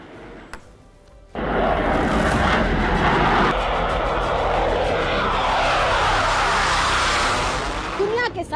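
A Tejas Mk1A fighter jet's engine roars loud and steady, a broad continuous rush that stays near for several seconds after a sudden start.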